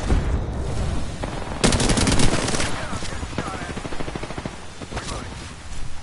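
Automatic Havoc energy rifle fire in an Apex Legends match, sustained bursts with a loud dense stretch in the middle and clattering game effects around it, a voice speaking over parts of it.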